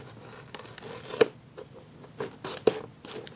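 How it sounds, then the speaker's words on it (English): Scissors snip through the packaging of a Dragon Ball Super Dragon Stars SSJ4 Vegeta figure in a quiet room, with two sharp cuts standing out amid soft rustling and crinkling of the plastic. "So now I'm gonna cut here with these scissors."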